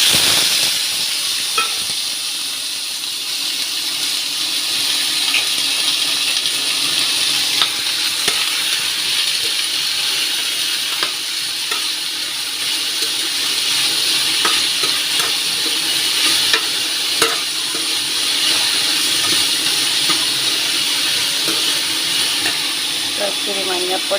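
Mushroom, potato and onion masala with curry leaves sizzles steadily in a pan as it is sautéed, with intermittent stirring clicks; a voice speaks over it at times.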